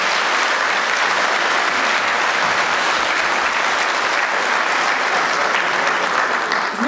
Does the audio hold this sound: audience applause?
yes